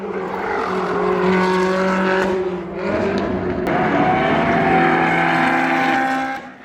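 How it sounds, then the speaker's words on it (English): Ferrari race cars at Le Mans roar past loudly, with engine notes rising and falling as several cars sweep by in quick succession without any talk. "So here are some Ferraris."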